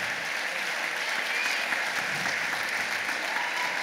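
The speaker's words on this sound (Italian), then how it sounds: "Per tutto ciò si meritano un grande e caloroso applauso." Warm applause for a brass band at its 30th anniversary celebration, a steady, even wash of many hands clapping indoors, moderately loud and continuous throughout.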